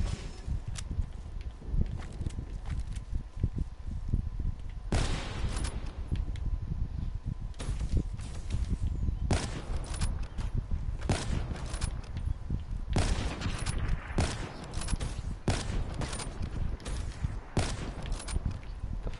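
Dense Call of Duty Black Ops 3 gunfire, with repeated bursts and single shots cracking over a constant loud battlefield din that never lets up.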